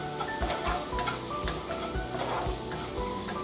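Spices with coriander powder frying in a pan for a mustard hilsa fish curry, a steady close sizzle broken by repeated scraping stirs of a spatula against the pan.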